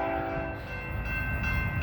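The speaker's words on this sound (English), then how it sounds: "That train was boogieing, Jack." A BNSF freight tanker train led by ES44C4 and Dash 9-44CW locomotives passes on the Brookfield Subdivision, its horn sounding sustained tones over a loud, close rumble of rolling wagons.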